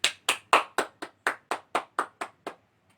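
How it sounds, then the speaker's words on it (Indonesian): Classroom applause during a geography microteaching lesson: about eleven sharp, evenly spaced hand claps at a steady rhythm, close and clear, tapering off after two and a half seconds. "Tepuk tangan dulu."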